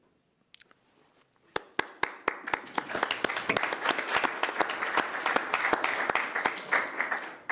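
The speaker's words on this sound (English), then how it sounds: "Round of applause for trees." Applause at a city council meeting begins with a few scattered claps, then swells into steady clapping from a room of people that carries on to the end.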